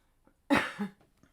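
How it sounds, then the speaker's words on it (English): One sharp cough, close and fairly loud, trailing into a brief rasp before quiet returns. "Sorry, I just have to cough."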